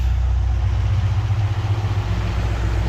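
A rebuilt C6 Corvette Z06 with a stroker V8 rumbles on its first drive, a deep, steady engine note close and loud with slight wavering in level and no talk.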